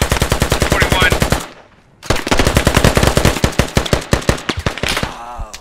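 Loud, close automatic gunfire in the video game Squad, rapid rhythmic bursts that pause briefly for about half a second and then resume in a long sustained string of shots.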